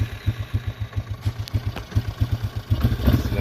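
A rebuilt Yamaha Wolverine ATV engine idles low and close by, a steady, rhythmic putter with faint mechanical clatter and a slight rise near the end.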